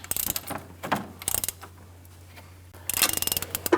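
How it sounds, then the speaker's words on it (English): Crank turning on a 2012-2018 Ford Focus 2.0L four-cylinder engine during AC compressor belt replacement, giving bursts of ratcheting, clicking mechanical sounds in several separate spells with quiet pauses between, close by and without talk. "keep turning that crank until you have it lined up correctly"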